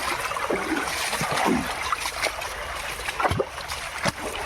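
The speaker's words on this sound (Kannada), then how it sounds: "ಇದು ಮಾತ್ರ ಜರಿ ಹರಿತಾ ಇದೆ" A small forest stream in the Malnad hills flows steadily nearby, a continuous trickling and splashing wash of water with a few brief louder splashes, heard alone with no talk.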